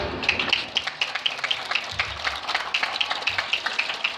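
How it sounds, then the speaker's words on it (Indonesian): An audience at an Islamic Quran memorization test event breaks into steady applause, many hands clapping in a lively, continuous patter with a few rhythmic claps standing out. "Boleh tepuk tangan?"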